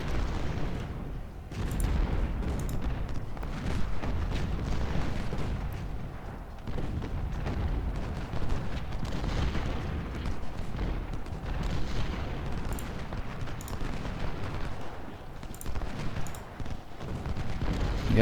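Cannon artillery fire in the Ultimate General: Civil War video game: a continuous rumbling barrage of booms and crackling shots, dense and overlapping over a roaring battlefield backdrop, with no clear voices.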